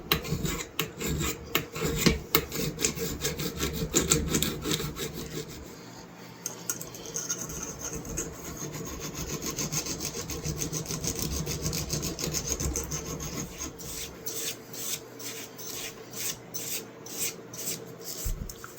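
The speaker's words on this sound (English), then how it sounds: "I think I want to sharpen this point a little bit." The point of a colonial-style knife is sharpened with rapid, rhythmic rasping strokes, a close, loud scraping that repeats steadily throughout, with a short shift in tone midway.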